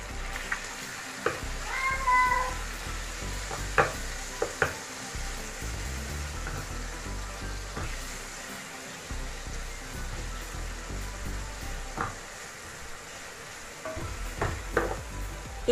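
Marinated chicken and prawns stir-frying over high heat for Indonesian nasi goreng, a steady close sizzle broken by occasional clanks and scrapes of the stirring utensil, with no talking.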